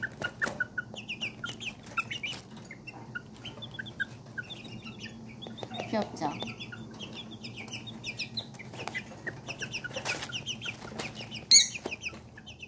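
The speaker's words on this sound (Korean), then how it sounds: "꿩을 넣어놓은 거죠. 숫꿩을. 아이고 다 흩어놓으면서 먹어요." Pheasant chicks and tiny serama chickens cluck and peep softly while pecking at feed in a pen, a steady chorus of small chirps and clucks close by, with a brief voice speaking once.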